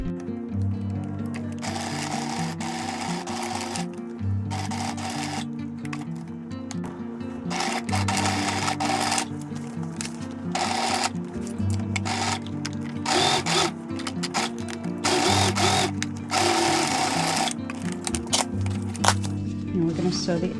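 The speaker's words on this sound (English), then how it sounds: "And we're going to sew the other side." Sewing machine stitching fabric hems during a thrift-store DIY project, a steady mechanical whirring run that continues through the clip with brief pauses, with music or talk layered underneath.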